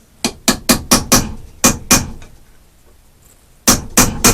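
A hammer strikes a chisel in sharp metallic blows while working on a muffler: a quick run of about seven hits, a pause, then three more loud close strikes.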